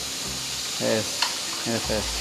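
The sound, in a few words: ingredients sizzling while frying in a pan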